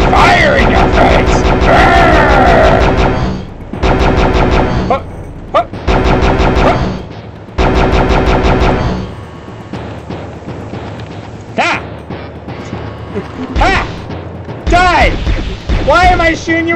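Weapons fire blasts in the video game Heretic come as loud, broad bursts separated by short gaps, then give way to scattered game sounds mixed with excited talking.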